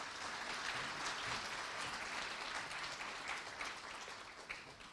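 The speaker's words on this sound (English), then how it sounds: "Can we have a huge round of applause for the artist, please?" Sustained applause from a large crowd of the Indian community in Moscow after an artist's performance, dense clapping at a steady loud level throughout with no voices over it.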